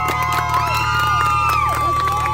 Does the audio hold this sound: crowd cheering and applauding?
yes